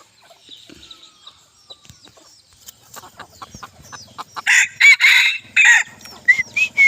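Bantam chickens on a hot evening: faint clucks and scattered calls at first, then several loud, close crows in quick succession dominate the second half, with no one speaking.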